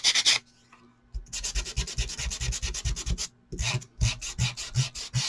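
Sandpaper rubbed briskly back and forth over the edges of a vintage ID tag, quick rhythmic scraping strokes in two close bursts separated by brief pauses, with no talking.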